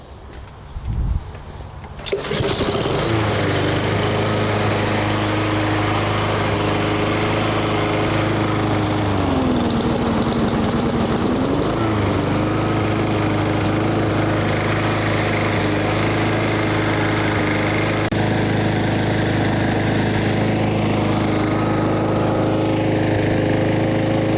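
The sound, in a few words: lawnmower engine running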